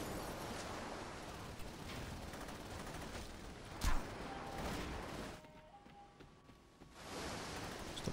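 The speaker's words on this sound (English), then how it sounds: "Stop shooting at me, bro." Sustained gunfire in the Saints Row 2 video game, a dense rattling roar of rapid shots with one sharper blast in the middle, easing off briefly before the firing swells again.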